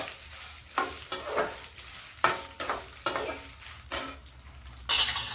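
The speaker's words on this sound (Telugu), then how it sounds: "ఈ మాత్రం వెల్లుల్లి రబ్బలు వేసేయాలండి. వేసేస్తున్నాను." Garlic cloves fry in a pan for Telugu rooti pachadi with coriander and bachalikura, a steady sizzle broken by several scraping stirs of a utensil against the pan.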